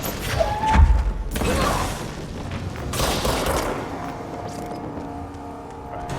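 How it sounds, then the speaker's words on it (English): Enemy shotgun blasts in the game Control land as heavy booming thumps, one strong near shot early followed by further muffled bangs and rumbling combat noise that gradually quiets. "That guy has a shotgun."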